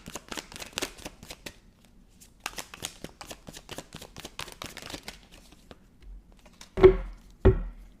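Tarot cards riffled and shuffled by hand in a quiet room, a rapid patter of card flicks in two bursts, then a pause and two louder slaps as cards are pulled and laid down.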